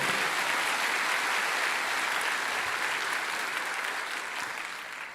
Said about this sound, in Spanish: Dale un aplauso al Señor si está entendiendo eso